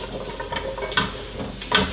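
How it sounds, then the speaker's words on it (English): Carrots are stirred together with onions and sausages in a pot, giving soft sizzling and scraping with two sharper stirring clanks spaced about a second apart, close and fairly quiet. "we're just gonna mix that up with our onions and sausages"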